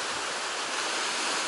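Sea waves wash steadily onto the shore at the Zelenogradsk promenade on a calm day, a soft continuous surf hiss with gentle swells and no voices.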